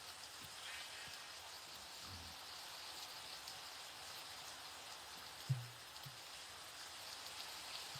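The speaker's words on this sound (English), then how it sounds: "it's raining" Steady, soft rain falls in the Minecraft video game, a constant hiss with no other distinct sounds.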